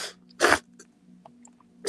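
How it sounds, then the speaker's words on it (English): A deep sniffle drawn sharply in through a runny nose, one short loud burst standing alone over a faint low hum, followed by quiet small noises and the start of another breath-like burst. "I had to take that little deep sniffle"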